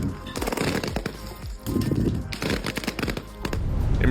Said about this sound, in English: This is what the latest generation of fireworks sounds like.